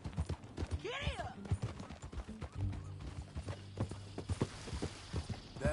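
Rhythmic hoofbeats in the video game Red Dead Redemption clip-clop steadily at a walking pace, with voices talking over them and a brief whinny-like call early on.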